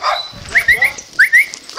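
Dogs bark in a town street as cattle are moved between farms, several short sharp barks in bursts, fairly close and loud.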